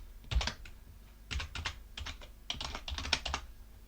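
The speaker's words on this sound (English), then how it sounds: "to do that, we type sudo, assuming you've installed sudo, and then it's sudo nano" A command typed on a computer keyboard in quick bursts of clicky keystrokes, three clusters separated by short pauses, close and clear with no voices.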